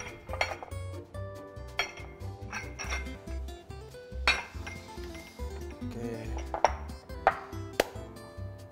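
Whisking an egg mixture for chawanmushi in a bowl, with a steady rhythmic clatter of a utensil against the bowl mixed with sharper clinks and pings, loud and close.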